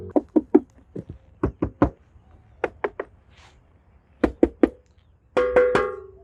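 Series of hollow knocks on the plastic and metal body panels of a Yamaha Fascino 125 Fi-Hybrid scooter, tapped in quick groups of two and three, close and distinct, ending in a ringing metallic knock.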